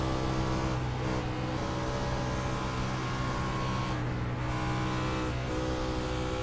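Race car engine in a sim racing game heard from the in-car camera on the Atlanta oval, a dense steady drone at high revs with small dips in pitch, loud and continuous with no talk.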